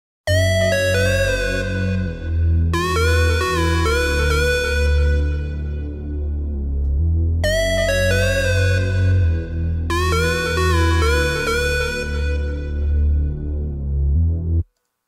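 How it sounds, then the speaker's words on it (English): Synthesizer bass pad made in Reason, with shimmering bell-like upper tones, playing two repeated phrases of sustained chords, steady and alone with no voices. "this time it's going to be on how to make a bass pad"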